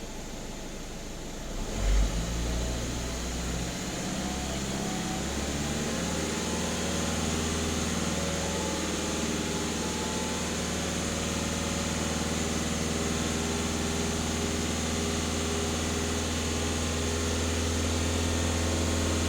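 A VW Touran 1.6 TDI diesel revs up after a brief quieter start and then holds a steady, droning note around 2500 rpm, continuous and close, with no speech.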